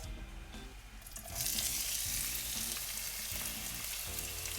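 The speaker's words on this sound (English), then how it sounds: "We have some olive oil in this pan that's cooking." Olive oil sizzles in a pan, swelling into a loud, steady fry as onions go in partway through, with faint stirring clatter underneath.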